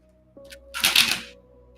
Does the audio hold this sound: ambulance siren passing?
no